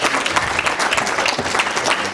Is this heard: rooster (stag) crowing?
no